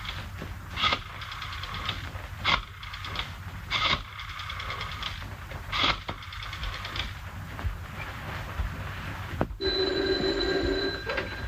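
An old-fashioned telephone bell rings in a film scene, sounding in several short bursts with pauses between them, followed by a brief tonal buzz near the end.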